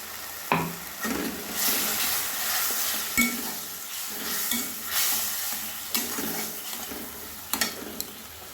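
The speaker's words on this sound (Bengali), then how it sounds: "এবার গুঁড়ো মশলা, বাটা মশলা সব একসঙ্গে আমি ভালোভাবে কষে নেব" Ground spices and spice paste frying together for a mango kasundi chicken curry, a steady sizzle broken by rhythmic scraping stirs and occasional clinks of a spoon on the pan, close and moderately loud, with no talking.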